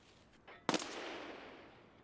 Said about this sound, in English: I don't even see who's shooting at me.